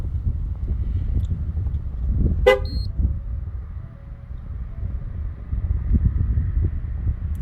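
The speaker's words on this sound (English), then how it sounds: "once this one passes, the car will beep twice" A 2008-2012 Ford Escape gives a short electronic beep confirming TPMS tire pressure sensor training, one brief chirp with a faint second tone, heard outdoors over steady wind and low background rumble.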